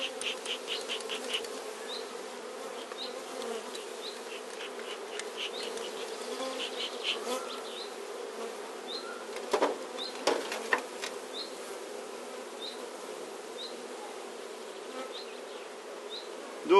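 Honeybees hum in a queen-rearing cell-builder hive, a steady close drone with individual bees buzzing past and a few brief knocks partway through.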